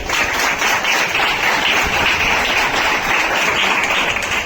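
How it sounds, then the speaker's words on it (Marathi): Audience at a computer institute event gives students a steady round of applause, dense and continuous clapping throughout with no talk over it. "त्याच्यासाठी टाळ्या वाजवा."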